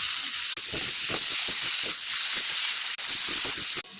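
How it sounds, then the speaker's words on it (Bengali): Cut potatoes frying in hot oil in a pan for a Bengali egg curry, a steady loud sizzle and hiss that runs throughout with faint stirring clicks. "এখন আলু ভেজে নেব।"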